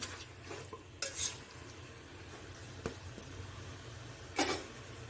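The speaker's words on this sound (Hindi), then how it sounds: "अच्छे से मिलाना है, तो मसाले अच्छे से लगाना है।" Spiced aloo gosht stirred in a pan on a stove over low gas, a few scraping strokes of the spoon against the pan over a soft, steady sizzle, close and fairly quiet.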